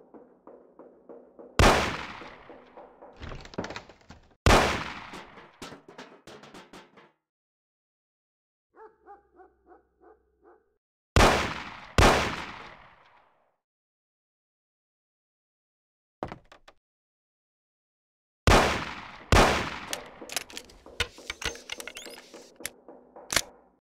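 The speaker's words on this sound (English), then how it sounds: "Shoot the cans off of the table." Gunfire from the video game Mafia as cans are shot off a table: several sharp, loud shots in quick clusters, each with a short ringing tail, separated by silent pauses and a few faint mechanical clicks.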